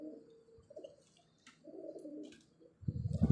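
A pigeon coos in low, soft, throaty bursts, two rounds close by, then a louder rumbling coo at the end.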